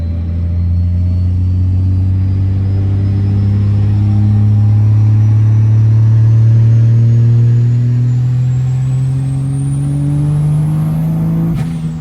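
A turbocharged 1200HP Cummins diesel truck engine revs hard and climbs steadily in pitch over a deep, loud rumble, with a high turbo whistle rising above it before the engine drops back.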